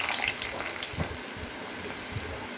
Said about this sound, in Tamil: எண்ணெய் நல்லா காஞ்சோன்னே நம்ம பலாப்பழம் கட் பண்ணதை நம்ம போட்டுக்கலாம்.